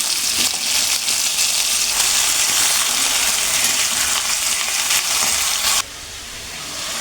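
Washed chicken fries in hot oil with curry leaves for a chicken dry fry, giving a loud, steady, hissing sizzle that drops suddenly softer near the end.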